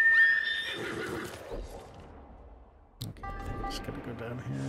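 A horse in the Ghost of Tsushima game gives a loud whinny, followed by quieter hoofbeats clopping as it arrives, with some soft game sounds in the background.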